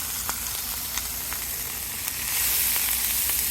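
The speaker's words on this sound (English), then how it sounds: "I'm just going to spread this out and stir fry it." Vegetables stir-frying in a pan give a steady, close sizzle with a hiss that gets louder toward the end, and soft scrapes from stirring come through now and then.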